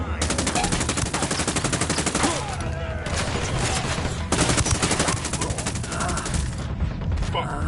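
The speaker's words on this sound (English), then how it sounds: "That's some rebels trading shots with the cartel." Dense, sustained automatic gunfire and scattered shots as rebels and cartel fighters trade fire in the Ghost Recon Wildlands video game, loud and continuous throughout with repeated rapid bursts.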